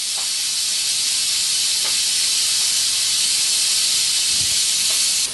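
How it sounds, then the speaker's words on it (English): Crock Pot Express pressure cooker venting steam on quick release, a loud continuous close hiss that holds steady the whole time, with no talking. "now we're quick releasing the pressure"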